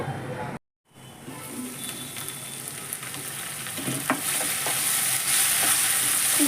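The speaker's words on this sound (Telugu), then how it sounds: "ఉల్లిపాయ పేస్ట్ ఇలా ఫ్రై అయిపోవాలండి ఇప్పుడు ఫ్రై అయిపోయింది కదా" Onion paste frying in a pan for a crab curry, a steady close sizzle with scraping stirs, briefly cut off near the start and then growing slightly louder.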